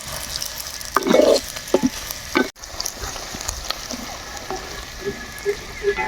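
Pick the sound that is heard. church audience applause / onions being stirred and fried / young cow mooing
onions being stirred and fried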